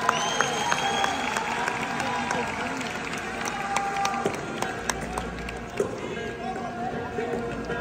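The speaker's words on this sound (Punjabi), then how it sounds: "ਤਾੜੀ ਮਾਰ ਦਿਓ ਉਹਨਾਂ ਦੀ" A live Punjabi concert audience in Birmingham claps for children's bhangra dancers, a dense crowd applause with scattered sharp claps and cheers beneath a speaker's amplified voice.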